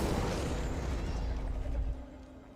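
A fire spell cast in the Hogwarts Legacy video game gives a loud, sustained roaring burst that fills the clip and fades after about two seconds.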